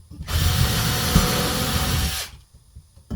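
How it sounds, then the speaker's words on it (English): A power drill whirs steadily for about two seconds drilling pilot holes in an Aliner RV seat, then spins down and stops, leaving near silence. "And then I can go ahead and drill my pilot holes."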